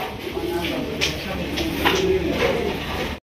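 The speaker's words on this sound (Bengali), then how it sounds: "মামার হাতে কিন্তু একটা কবুতর আছে" Soft cooing from a female Dowker pigeon, low throaty coos rolling along steadily for a few seconds, heard close over busy background chatter from a crowded pigeon market.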